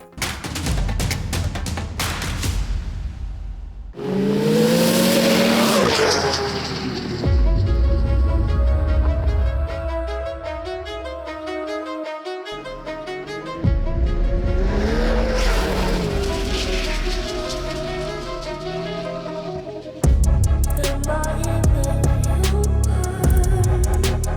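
A Ski-Doo snowmobile engine is revved hard in a workshop during testing, with repeated loud rising and falling revs, sharp crackles and brief pauses between bursts.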